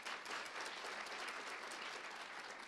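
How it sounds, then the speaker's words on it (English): Dense, steady applause from a festival audience at an outdoor food and flavor event in Colorado, a continuous wash of many hands clapping at an even level throughout, with no voices on top. "Give yourselves a round of applause."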